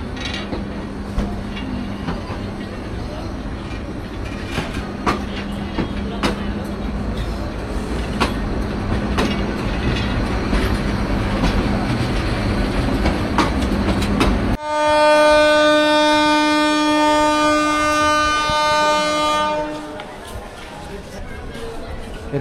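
The Kurigram Express pulls out toward Dhaka with a rolling rhythmic rumble of wheels on rails, then a loud sustained horn blast several seconds long near the end, with the rumble continuing after.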